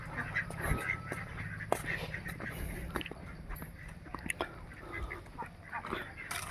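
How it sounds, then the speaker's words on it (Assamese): Purebred Khaki Campbell ducks at a duck farm quack in a busy chorus, with short overlapping calls from several birds over a steady background murmur, fairly near. "এইটো পিয়ৰ অৰিজিনেল খাকী কেম্বেল হাঁহ"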